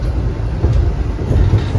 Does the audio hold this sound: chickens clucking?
no